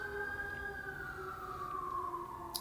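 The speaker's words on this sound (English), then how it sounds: "There's now 3 alarms going by. 3 sirens." A siren wails in the distance, its tone sliding downward as the vehicle passes by, steady and moderately faint.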